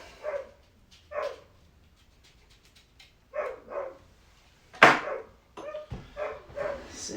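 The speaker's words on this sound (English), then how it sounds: "See Bruce barking from the backyard." A dog barks in a backyard, heard a little way off: short separate barks in irregular bursts, with quieter gaps between them and one sharper, louder bark partway through.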